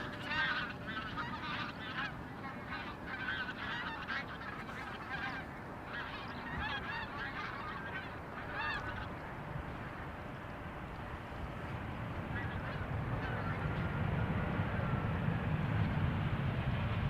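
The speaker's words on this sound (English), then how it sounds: "Sounds like geese." Geese honk repeatedly in a flock passing over an airport, the calls layered and continuous over a steady roar of aircraft and wind noise that grows slightly louder toward the end.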